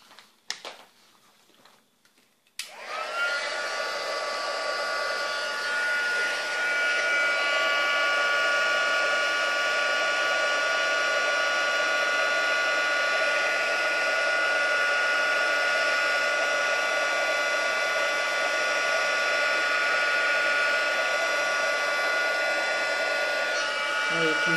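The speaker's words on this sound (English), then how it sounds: "And the heat gun again." Heat gun melting embossing powder during card stamping, a loud steady blowing whir that switches on after a few quiet seconds and runs evenly for over twenty seconds.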